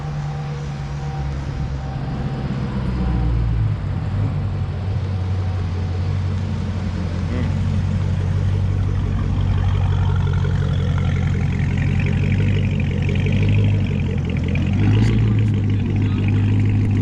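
A Dodge Hellcat with a 2.85 upper pulley runs on a dyno, its engine droning low and steady as the pitch slowly climbs through a long sustained pull.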